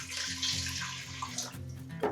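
About a quart of water is poured into a container for a homemade corned beef brine, making a steady, close splashing rush that shifts slightly as the stream changes, with no voices.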